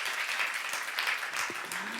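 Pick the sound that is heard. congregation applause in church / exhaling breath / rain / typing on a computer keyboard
congregation applause in church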